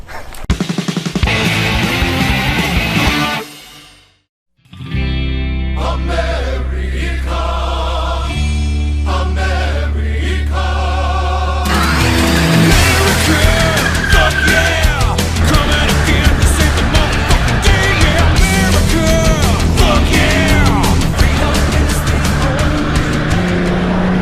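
A rear-wheel-drive Ford Mustang S197 with a 4.0 V6 on summer tires drives on snow, engine revving loud and close, dropping out briefly, then revving hard again with continuous roar and tire noise.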